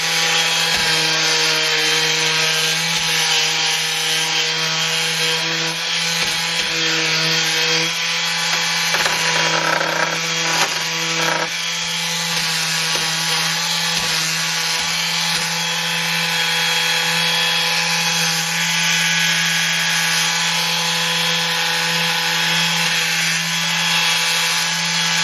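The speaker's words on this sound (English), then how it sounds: "I'm going to turn the sander on again. It's going to be loud" An electric power sander works over painted furniture to distress the finish, giving a loud, continuous droning whine with a steady low hum beneath and slight fluctuations as the pad moves across the surface.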